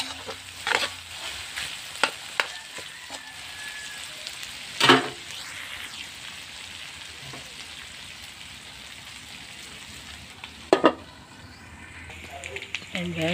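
Ground pork sizzling and frying in its rendered oil for spaghetti, a steady crackling hiss with occasional louder scrapes and clacks of stirring, close by.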